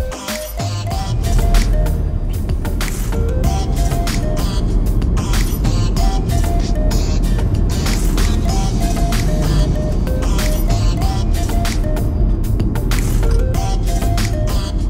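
A car driving, steady engine and road rumble with a repeating tonal chime or indicator-like pattern running throughout, loud and continuous from inside the vehicle.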